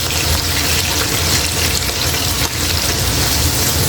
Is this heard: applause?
no